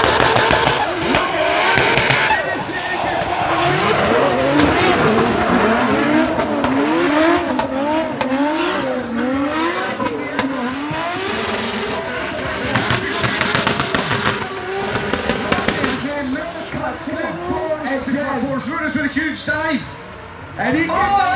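Drift cars at a Drift League competition round scream and wail with revving engines and squealing, skidding tires for the whole stretch, loud and continuous, under excited commentary from two announcers.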